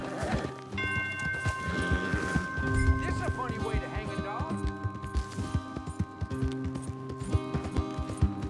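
Horses clip-clop at a steady canter across ground in Red Dead Redemption 2, hoofbeats thudding rhythmically throughout while game characters talk over them and a horse briefly whinnies.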